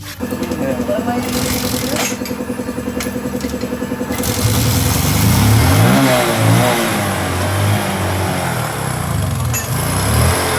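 Bajaj Rouser 135 motorcycle engine running steadily close by, then revving harder into a louder, rougher rumble after an exhaust pipe bolt with stripped threads is repaired; a faint voice may sit underneath.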